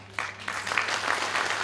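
A crowd claps at a pre-election political rally in Medzilaborce, Slovakia, the applause starting sharply and swelling into dense, sustained clapping.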